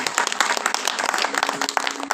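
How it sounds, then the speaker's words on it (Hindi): An audience clapping at a Geet Ramayan stage performance, a brief, dense burst of many hands applauding at once, loud and close. "एक बार ताली बजा दी रहा है।"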